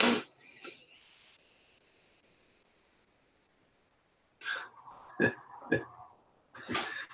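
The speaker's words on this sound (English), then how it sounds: "I'm always just sniffling." A few short, breathy sniffles close up, one at the start and a cluster near the end, with quiet stretches between.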